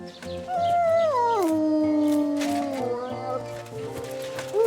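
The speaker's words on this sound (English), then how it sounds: "Wolves! What the? Wolves during the day?" Wolves in the video game Kingdom Come Deliverance 2 give a long, loud, gliding howl that falls in pitch, with fainter howls and barks layered behind it over steady game ambience.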